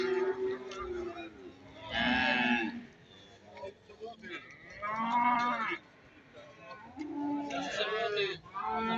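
Cattle and calves low repeatedly at a busy livestock market in Barda, with young stock bound for fattening; three loud, drawn-out moos rise over the crowd while people talk nearby.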